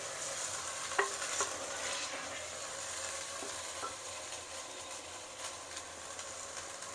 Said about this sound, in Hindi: यहाँ पे गोश्त फ्राई होना शुरू हो गया